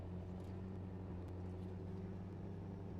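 A low, steady diesel drone from a Squarebody dually pickup in the SnowRunner video game, a constant faint engine hum with even rumbling harmonics and no change in pitch.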